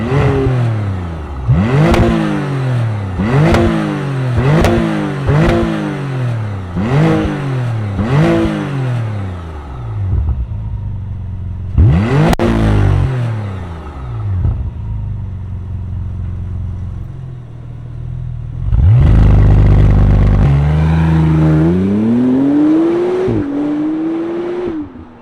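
A 2025 McLaren Artura Spider supercar with its top down revs sharply several times, then launches with a loud, rising engine roar through gear changes, close by.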